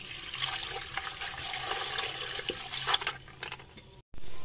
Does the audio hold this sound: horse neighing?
no